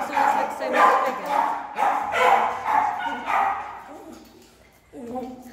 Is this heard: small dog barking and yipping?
yes